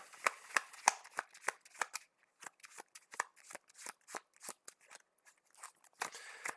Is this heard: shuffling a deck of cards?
yes